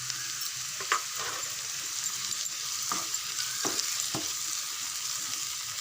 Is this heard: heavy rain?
no